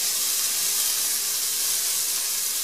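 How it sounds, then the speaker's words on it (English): Chopped onion and minced garlic sizzle gently in olive oil in a pan, giving a soft, steady hiss that runs without a break. "We're just going to cook the onion a little"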